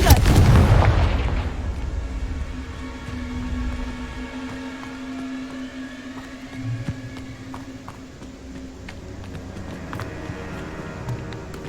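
A Confringo fire spell explosion in Hogwarts Legacy, one loud deep blast at the start that fades into a rumbling, crackling tail and ambient game sound.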